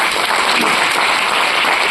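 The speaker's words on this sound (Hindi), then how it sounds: "तो ऐसी सभी संस्थाओं के लिए भी एक जोरदार ताली होनी चाहिए।" Loud, dense applause from an audience at a direct selling excellence award function, a steady wash of clapping that fills the whole stretch without a break, with no talk over it.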